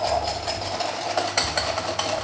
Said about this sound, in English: So we're just gonna take to it with a whisk